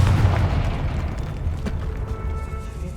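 A Confringo fire spell explodes in Hogwarts Legacy with a loud, sustained booming rumble that stays heavy throughout and carries a brief sharper burst midway, with no voices.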